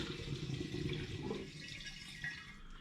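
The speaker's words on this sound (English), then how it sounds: "So I want to gently pour this back into the demijohn." Liquid is poured gently from a plastic jug back into a glass demijohn while making homemade gin, a soft continuous gurgle and trickle that tapers off near the end.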